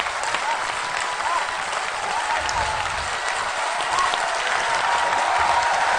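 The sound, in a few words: audience applause after poem recitation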